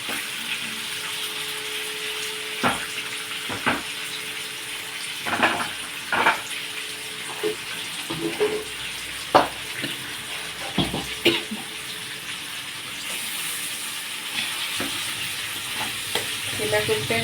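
Radish sambar cooks in a pan on a home stove, giving a soft continuous sizzle and bubble with scattered stirring clinks and scrapes, close and moderate, without talking.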